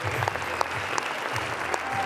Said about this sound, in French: sous les applaudissements d'une salle debout